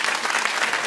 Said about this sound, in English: Stop clapping, you fools.